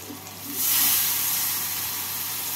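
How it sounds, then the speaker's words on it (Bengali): Spice paste for a rohu fish and potato curry sautés in a pan after a splash of water, giving a steady soft sizzle and hiss that swells, then holds at a moderate level. "এবার মশলাকে ভালো করে কষিয়ে নেব।"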